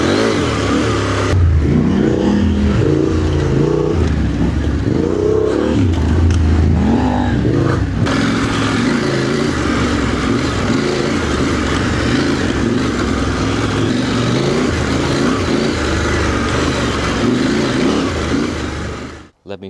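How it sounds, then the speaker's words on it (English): A KTM 890 Adventure motorcycle with a de-catted aftermarket rally exhaust, baffle fitted, revs loudly and continuously up close, its throaty exhaust rising and falling through repeated throttle blips before cutting off at the end. "New exhaust of Jeffrey sounds very nice"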